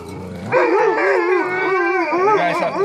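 An Alaskan Malamute whimpers and whines continuously at close range, its pitch wavering up and down in a drawn-out, pleading cry outdoors in snow.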